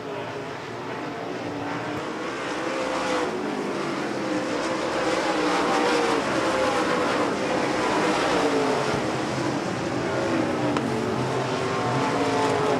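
Dirt track race cars roar down the back straightaway at Devil's Bowl Speedway, a loud, sustained engine drone that swells as the pack passes, with no talk over it.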